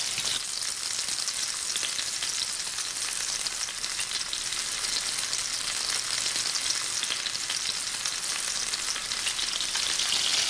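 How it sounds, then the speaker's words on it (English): Tuna crusted with peppercorns sears in a hot pan, giving a loud, steady, dense sizzle that runs without a break, with no voices over it. "the key here is to just sear the outer surface of the tuna and the peppercorns"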